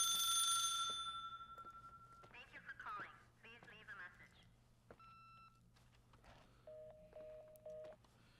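A telephone rings repeatedly inside the horror game The Suicide of Rachel Foster, set in a hotel, with electronic ring bursts heard between stretches of someone talking.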